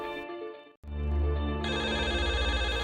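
A telephone rings with a steady electronic ringtone, loud and close, cutting out briefly before ringing again with dense repeating tones; no voices over it.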